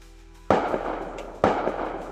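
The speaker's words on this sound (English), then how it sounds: "Gunshots." Two loud gunshots crack about a second apart, each followed by a short rumbling echo, over a low steady hum.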